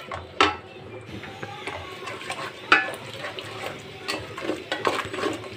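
Liver and lung karahi being stir-fried in a pan: a steady sizzle broken by occasional sharp clanks and scrapes of the spoon against the metal, close and fairly loud.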